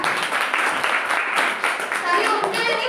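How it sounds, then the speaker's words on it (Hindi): Students in a classroom clap together in a steady, dense round of applause, with a voice speaking over the clapping. "वाह, ताली बजाओ सब लोग"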